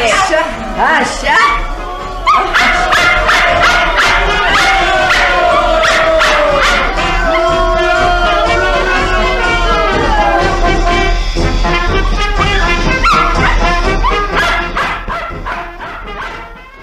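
A puppy yips and barks repeatedly in a lively indoor scene, its high barks and whimpers mixing with overlapping voices and steady background noise throughout.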